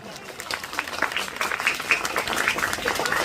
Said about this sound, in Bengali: সবাই একবার জোরে হাততালি দেবো আমরা